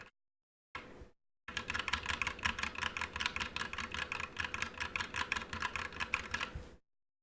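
Close, fast, steady typing on a mechanical keyboard whose keys are fitted with O-rings, a dense run of muffled clacks after a brief opening burst.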